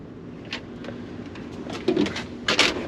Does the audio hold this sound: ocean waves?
no